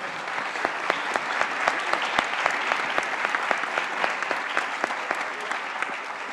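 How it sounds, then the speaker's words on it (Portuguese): An audience at an annual conference applauds a panel, a steady loud clatter of many hands with distinct sharp claps punctuating it at a regular pace. "Uma salva de palmas para o nosso painel, por favor."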